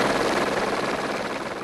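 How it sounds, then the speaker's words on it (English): A firefighting Air Crane helicopter flies in over a bushfire area, its loud rotor chop and turbine roar filling the air, steady and close with a rapid pulsing beat. "firefighting choppers moved in. Air Crane Bluey, the most effective."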